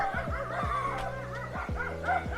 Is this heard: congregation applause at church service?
no